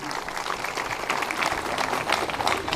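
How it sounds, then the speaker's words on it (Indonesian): A church congregation at an Indonesian revival service claps together in a steady, dense round of applause, with a busy crowd sound throughout and some voices mixed in. "Tepuk tangan dulu yang meriah bagi Tuhan."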